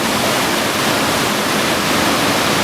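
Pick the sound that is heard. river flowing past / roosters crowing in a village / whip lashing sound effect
river flowing past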